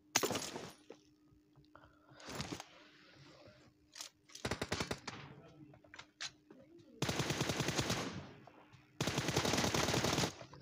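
Video game gunfire rattles in sustained automatic bursts with a few scattered single shots, loud and close, the longest bursts coming near the end with brief gaps between them.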